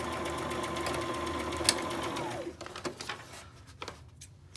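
A sewing machine runs a straight stitch across the top of a small folded-over pocket edge, a steady close whirring drone that stops about halfway through, followed by a few quieter clicks and handling sounds.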